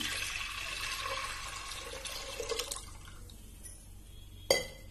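Water splashes and trickles into a clay pot for a few seconds, then the pouring stops and a single clink follows in the quiet.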